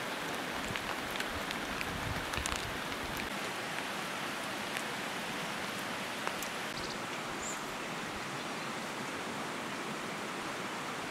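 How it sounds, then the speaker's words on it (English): Steady hiss of heavy rain with scattered sharp ticks of hail striking metal, continuous and fairly close. "Don't you just love it when it's hailing and raining and sunny at the same time?"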